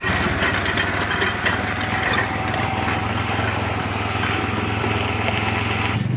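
A vehicle driving a dirt road in the Peruvian Andes gives a steady, loud engine drone with a dense, continuous rattling and vibration running throughout.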